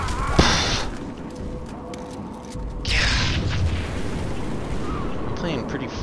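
Grenade blasts go off in a shooter video game: a sharp bang early on, then a heavier boom a few seconds later, with gameplay noise and faint voices around them.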